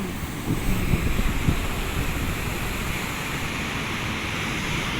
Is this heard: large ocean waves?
yes